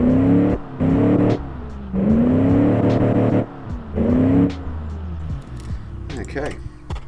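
A muscle car engine in the Automation car-building game revs repeatedly, with four loud rising throttle blips separated by brief drops to idle, before settling into a quieter idle at the end.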